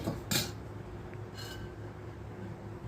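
A spoon knocks against a pot of dal on a wood-fired stove, giving two sharp metallic clinks over a quiet background hum.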